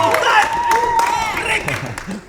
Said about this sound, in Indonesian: Tepuk tangan untuk Ricky the Monster.